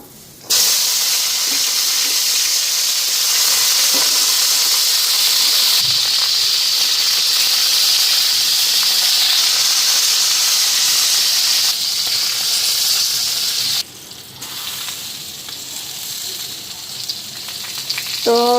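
Moringa drumsticks (sajna) hit a hot cooking pan and set off a loud, steady hiss of frying oil that runs unbroken for many seconds, then eases to a softer sizzle near the end.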